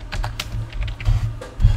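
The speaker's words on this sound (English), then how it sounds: "So, you can type in a message." Quick keystrokes on a computer keyboard while typing a short message, a brief close run of soft clicks with no talk.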